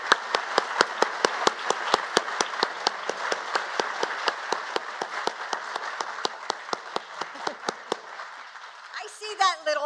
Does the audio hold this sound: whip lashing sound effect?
no